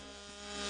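A chainsaw cuts into a log on a Queensland ranch, a steady buzzing drone that holds for under a second and swells slightly louder toward the end, with no talk over it.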